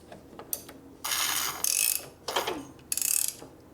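A socket ratchet clicks in short bursts as a flooded 1965 Harley-Davidson Sportster XLH engine is slowly turned over, with a few separate cranking pushes and brief pauses between them.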